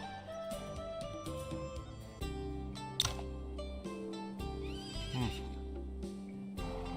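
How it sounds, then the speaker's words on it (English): A horse whinnies and neighs in the martial-arts role-playing game Wandering Sword, loud and close over a steady game music score, with a sharp startled cry near the middle and a hoof clatter. "My horse got startled and almost hit you."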